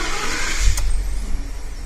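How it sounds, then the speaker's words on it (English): A 2012 Ford F150 with a 5.0L engine and random misfire codes cranks and catches in one brief burst, then settles into a low, rough rumble nearby. "So we're about to start this thing."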